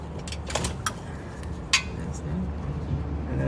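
A wrench loosens a 15 mm oil drain plug nut under a car, giving a few sharp, isolated metallic clinks spaced over a steady low background hum.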